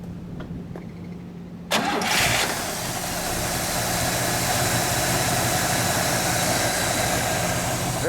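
A 1964 Buick Wildcat with its 465 V8 cranks and fires after a quiet start near the two-second mark, then settles into a loud, steady, smooth idle that runs without a break.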